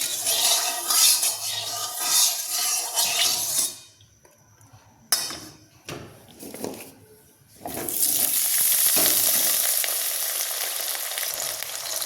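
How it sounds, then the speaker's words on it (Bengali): Cut potatoes frying in hot oil for a soybean curry, with a loud, steady sizzle that drops away briefly while utensils clink and stir, then surges back to a full hiss. "তেল গরম হয়ে গেছে, এবার আমি কেটে রাখা আলুটা সুন্দর করে ভেজে নেব"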